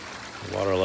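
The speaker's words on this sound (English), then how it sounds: "Love sitting within earshot of that nice water flow right there." Gentle stream water flowing nearby at a handpan gathering spot, a steady wash with a rising pouring rush, with voices and background noise underneath.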